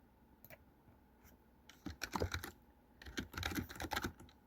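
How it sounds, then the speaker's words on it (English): Quick bursts of typing on a small, quiet computer keyboard with no number pad, soft close clicks in clusters separated by brief pauses. "This keyboard's quiet."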